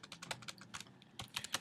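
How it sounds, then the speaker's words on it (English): Typing on a computer keyboard produces quick irregular clusters of light key clicks with a brief pause midway. The sound is close and fairly quiet, and no one speaks. "sorry about my typing"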